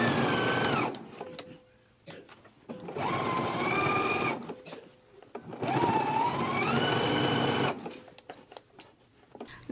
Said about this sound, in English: we can go to the machine and we can stitch it in a 5/8 of an inch seam allowance.